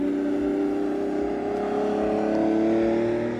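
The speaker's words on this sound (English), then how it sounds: "Listen to that V12." Lamborghini Revuelto V12 engine holding a steady, loud drone with a slight rise in pitch, continuous and close, no talking.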